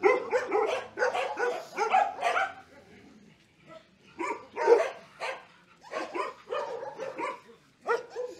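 Several dogs bark in repeated volleys at an animal shelter in Hajnówka, with sharp overlapping barks and yips, a short lull midway, then renewed barking close by.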